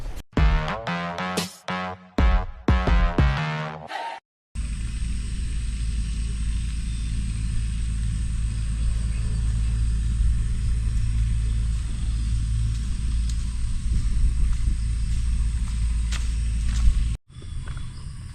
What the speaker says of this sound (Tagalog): Kumayad na yung makina dito kaya hindi makausad.